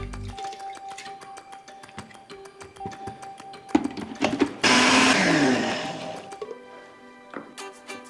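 A kitchen grinder works on lentils and wheat and barley porridge, starting with clicks and short whirs and then a loud, harsh grinding roar that fades back into intermittent mechanical whirring.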